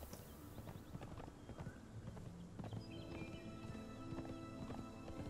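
Horse hooves clip-clopping during riding in the Conan Exiles video game, a steady rhythmic trot under continuous game ambience and music.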